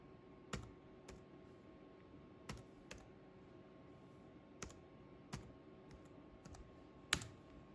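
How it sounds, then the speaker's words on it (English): Keys clack one at a time on a computer keyboard while an access code is entered, about a dozen sharp, close clicks spaced irregularly over a quiet room hum. "So let me type this in"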